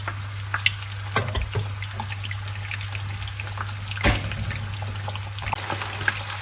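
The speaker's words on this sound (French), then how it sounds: "on va laisser cuire gentiment nos œufs" Eggs frying gently in a pan give a steady soft sizzle and crackle with a few sharper pops, heard up close over a constant low hum and with no talking.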